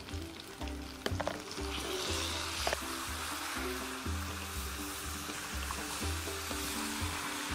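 Fish pieces stir-fried in a wok with strongly alcoholic fermented rice wine (jiuniang) for a New Year dish, a loud continuous sizzle close up, with spatula scrapes and a low rhythmic rumble underneath.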